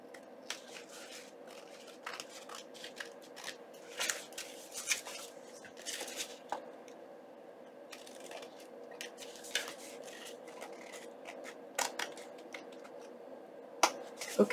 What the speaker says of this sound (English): So now I just have to trim the ends off.